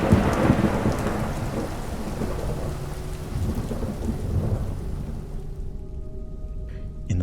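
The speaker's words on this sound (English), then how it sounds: "Just as the storm entered the downtown business district, a devastating bolt of lightning struck the switchboard's wiring" Heavy rain pours steadily with deep rolling thunder rumbling through, loud at first and then fading toward a quieter, thinner patter near the end.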